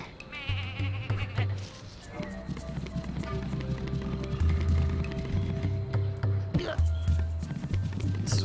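Sheep bleats ring out from the video game Tak amid running footsteps and game music, a few short repeated calls layered over a steady busy backdrop.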